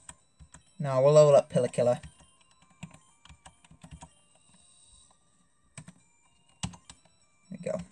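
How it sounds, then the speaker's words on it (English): A computer keyboard clicks and clacks in quick scattered bursts during a Pokémon Leaf Green playthrough, sitting under a brief stretch of spoken commentary and then continuing mostly alone. "I know you can probably hear the click-clacking of the keyboard"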